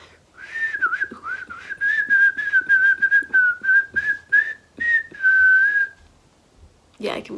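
A person whistles a steady, wavering melody for about six seconds, close and clear, with brief breathy pauses between phrases.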